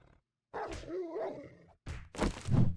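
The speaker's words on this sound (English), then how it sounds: "Definitely sounds like there's a dog above me." A dog in the zombie survival game 7 Days to Die lets out a growling, snarling vocalization, then after a short gap a couple of loud, close barks with no talking.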